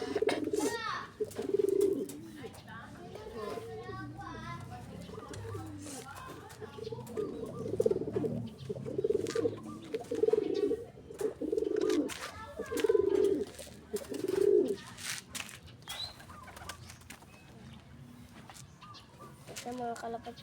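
Pigeons coo in repeated soft, throaty phrases close by, with bursts of clucking-like calls and people talking intermittently underneath.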